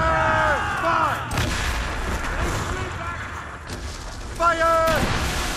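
Cannons boom aboard a ship in the video game Assassin's Creed Rogue, heavy blasts with rumbling tails under shouted voices and game music.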